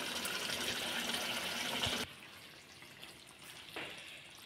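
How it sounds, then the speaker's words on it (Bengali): Cooked singi fish jhol curry poured from a pan, a steady wet hissing pour for about two seconds that stops abruptly, followed by a faint splash and quiet. "তরকারিটা আমি এখন ঢেলে নিচ্ছি"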